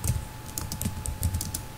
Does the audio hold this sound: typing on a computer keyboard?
yes